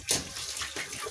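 Running tap water splashing over a gutted roaster chicken as it is rinsed, a steady close gush with a brief louder splash near the start, no voices.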